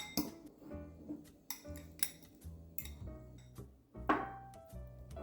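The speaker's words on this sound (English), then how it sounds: "Toss these around, these breadcrumbs, until these mozzarella balls are thoroughly coated." Mozzarella balls tossed around in breadcrumbs in a dish, with repeated clinks and knocks of utensils against the dish in an irregular rhythm, close and moderately loud, with no talking.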